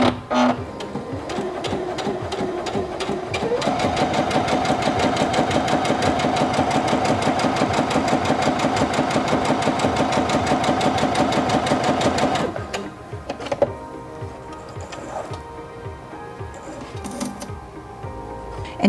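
A SINGER Featherweight C240 sewing machine stitches with its integrated even feed engaged, starting slowly, then running at a steady rapid mechanical hum for about nine seconds before stopping, followed by quiet clicks and handling noises.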